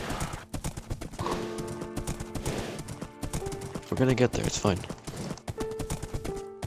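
Horse hooves clip-clop in Minecraft, a steady trotting rhythm with a brief whinny, heard under a person talking casually.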